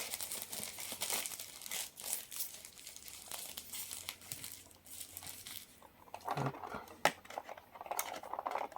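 Faint crinkling and rustling of packaging with soft tearing and peeling sounds, a few sharper rips near the end, fairly quiet and close.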